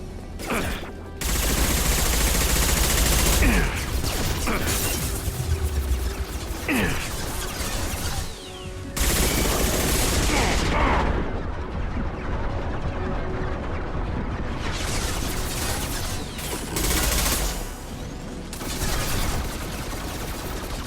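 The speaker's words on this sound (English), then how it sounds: "Firing an impact shot!" Loud, continuous gunfire and explosive impacts from a Mass Effect 2 firefight with an impact shot being fired, dense bursts layered over combat noise and brief gaps, with no clear talk.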